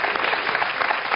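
Studio audience on a television show applauding, a dense, loud and continuous wash of clapping over the whole short stretch.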